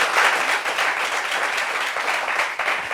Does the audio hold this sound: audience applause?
yes